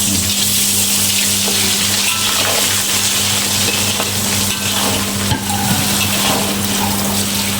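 Loud, continuous sizzling and crackling of chicken liver frying in a hot pan, with a steady low hum underneath and occasional sharper pops.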